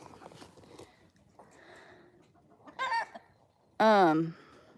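A hen lets out a couple of loud, strained clucks near the microphone after a quiet stretch with faint background noise.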